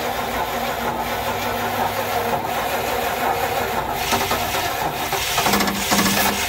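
A 1975 Lincoln Mark IV's 460 V8, hot-wired at the starter solenoid, runs with a steady rough mechanical drone and some clicking, rising slightly near the end.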